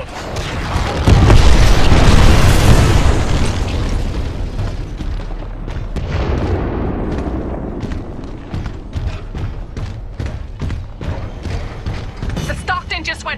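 In Titanfall 2, a heavy explosive boom swells and rumbles, then gives way to a series of sharp blasts and mechanical clatter over a continuing low roar. Game voices sound faintly in the mix.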